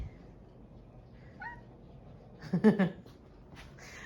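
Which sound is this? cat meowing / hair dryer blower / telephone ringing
cat meowing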